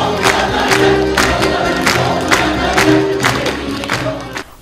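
At the close of a Turkish folk music choir concert, the audience claps and cheers loudly, sharp bursts of clapping and shouts over a sustained crowd roar that gradually tapers off.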